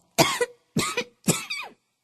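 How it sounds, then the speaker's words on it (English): A woman in an audiobook reading coughs three times in quick succession, each cough loud and close, with short gaps between and no talking around them. "she coughed 2 or 3 times in order to put the little prince in the wrong"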